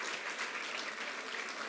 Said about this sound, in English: So 12 is give them a round of applause.